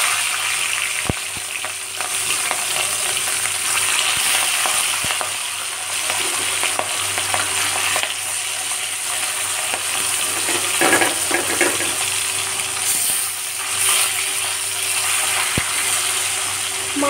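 Hilsa fish pieces for mustard hilsa go one by one into hot oil, raising a loud, continuous sizzle with brief crackles and occasional utensil clicks close by. No one speaks.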